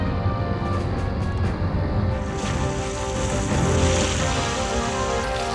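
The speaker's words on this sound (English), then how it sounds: "Water floods into the leaking silo." Water rushes and floods into a leaking missile silo aboard a Cold War submarine, a loud, steady broadband roar with surging swells that continues throughout.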